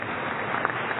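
Audience applause for Peru's economy minister at a PERÚ-APEC 2016 ceremony, a dense steady wash of clapping throughout the brief moment with no voices on top.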